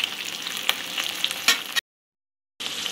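Onion and capsicum frying in a pan for a chicken jalfrezi, a steady close crackling sizzle with a few sharp stirring clicks, cut off by a brief silence before the hiss resumes.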